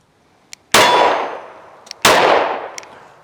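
Two loud, ringing clangs of bullets from a compensated Glock 43X pistol striking a steel target, each a sharp metallic hit decaying over about a second, with faint distant gunshot pops before them and no talking.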